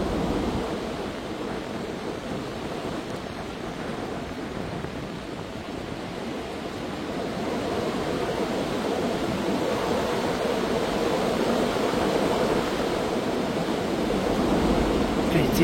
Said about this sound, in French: C'est le vent qui revient dans l'autre sens, tellement c'est violent.